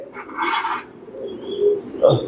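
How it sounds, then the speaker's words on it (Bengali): Racing pigeons coo in a garden loft, soft low throaty calls rising and falling across a couple of seconds, with a faint clink of objects nearby. "কবুতর আছে, যেমন stencil racer, opal crested racer, blue বার্লেস racer baby"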